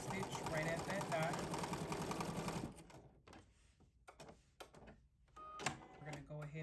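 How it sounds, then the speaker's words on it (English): A sewing machine back stitches on fabric for a McCall's M8551 garment, giving a steady, close mechanical whir for about three seconds under a talking voice. It then stops, leaving a few quiet clicks and handling noises. "I'm going to back stitch right at that dot"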